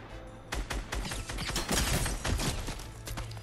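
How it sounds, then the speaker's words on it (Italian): Video game gunfire crackles in a rapid burst of overlapping shots, loud and close, starting abruptly after a brief quiet and rattling on unevenly to the end. "ho sentito degli spari in questa zona"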